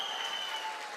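A brief, steady wash of audience clapping at a live speech event, dense and even across the whole moment with no voices over it.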